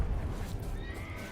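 Roach, the horse in The Witcher 3 video game, gives a brief, close whinny, with faint hoof clatter underneath.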